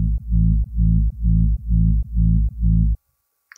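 A self-made kick sub layer built in FL Studio: six deep, booming low thumps in an even, steady rhythm, each sustained and rounded, ending in silence apart from a faint click at the very end.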